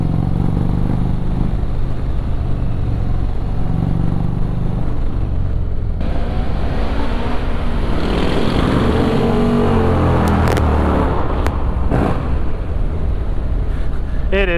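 Loud, steady engine and wind roar from an Indian Chieftain Dark Horse motorcycle at cruising speed, heard continuously from the rider's position with rushing air noise throughout.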